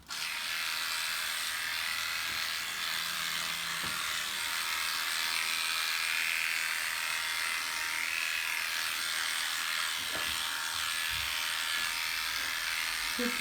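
Electric clippers run continuously through a dog's coat during basic grooming, giving a steady, moderately faint buzzing hum with a few soft knocks and handling sounds.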